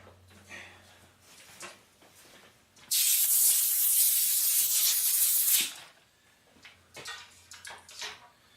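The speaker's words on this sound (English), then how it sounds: "Let me just blow this broach out." A blast of compressed air clears out a broach in a welding shop, a loud, steady hiss lasting about three seconds between quieter shop noises.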